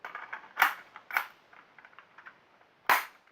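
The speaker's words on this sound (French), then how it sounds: "Et là on passe au plus gros gun. Donc un Glock 18 version P228." Sharp airsoft Glock 18 pistol shots, three loud cracks with two close together and a third after a pause, over faint mechanical clicking.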